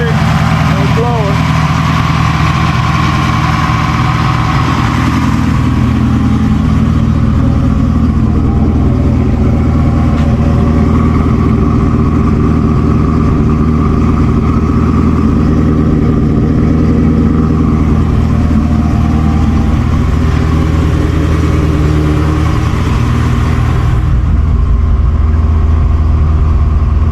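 A Ford small block V8 without a supercharger idles steadily and loudly up close, a deep continuous rumble throughout, with a voice talking over it.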